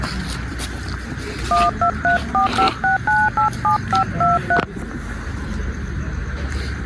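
A rapid series of about a dozen telephone keypad tones beeps out evenly, followed by a faint hum with background noise.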